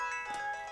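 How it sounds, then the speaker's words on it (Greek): A telephone rings with a bright, electronic ringtone, a short repeating melodic pattern heard clearly on its own without speech. "Πάμπη Φκιακουρή, απάντα το τηλέφωνο"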